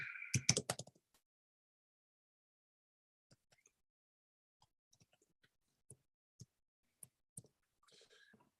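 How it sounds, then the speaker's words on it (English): Computer keyboard typing during a morning live stream: a quick loud burst of clicks at the start, then sparse, faint keystrokes scattered alone in a quiet room. "I'm just setting some stuff up, typing some things."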